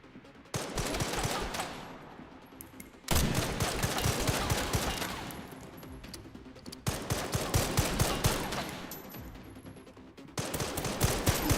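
Long, loud bursts of automatic gunfire in Resident Evil Requiem, with sustained rapid rattling that stops briefly and then resumes several times over roughly ten seconds.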